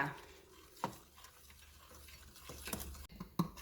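Cream mixture with vanilla sugar stirred in a bowl for chocolate-coated rice krispies, a quiet scraping swirl broken by a few sharp utensil clinks against the dish, with no talking.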